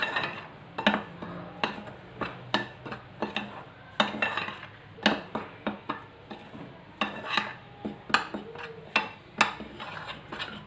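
A spoon clinks and scrapes repeatedly against a bowl while crushed red chilli, black pepper and garam masala are mixed together for chicken tandoori. The sharp taps come in an irregular rhythm, close and fairly quiet, with no talking.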